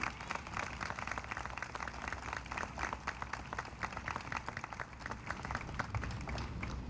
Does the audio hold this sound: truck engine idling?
no